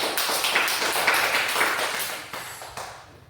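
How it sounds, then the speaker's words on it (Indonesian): A group of participants in an Indonesian classroom training session applauds together, dense steady clapping at moderate volume that tapers off gradually near the end. "Tepuk tangan untuk semua dulu karena sudah memberikan instruksinya yang baik."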